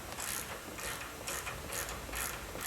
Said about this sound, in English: Okay, now we just have to take the nuts off the control arm bolts here.